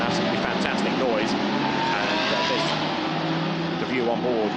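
Lamborghini Super Trofeo race cars on the formation lap at Portimao, a loud, continuous engine roar with rising and falling pitch as cars pass, a commentator talking over it.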